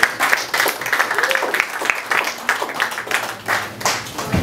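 Audience applause at a stand-up comedy show, uneven bursts of clapping with pulsing claps near and far, and voices murmuring faintly underneath.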